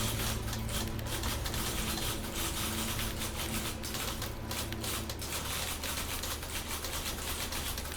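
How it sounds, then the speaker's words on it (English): Typewriter keys clatter in a video game, a rapid, irregular run of crisp clicks over a loud, steady background hum that continues for several seconds with no voices. "Sounds like a typewriter."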